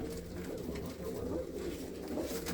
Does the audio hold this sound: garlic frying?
no